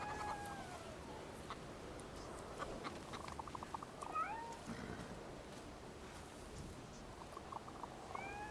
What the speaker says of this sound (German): da maut's doch eine Katze hier irgendwo im Spiel.